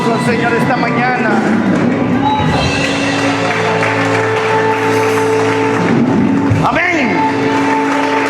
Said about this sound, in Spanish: Dele su mejor aplauso al Señor esta mañana.